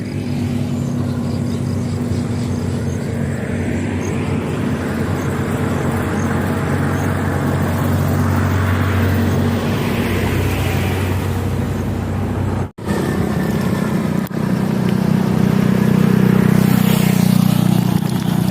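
Continuous roadway traffic on the Anyana bypass highway in Cavite, a steady engine and tire rumble with vehicles droning past, broken once by a brief dropout and a thump before the traffic hum swells again.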